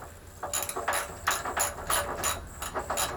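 A hand ratchet loosening the 10mm brake caliper bolts on a Lakota 300 quad, a rapid run of close clicking strokes in a steady rhythm, with no talk.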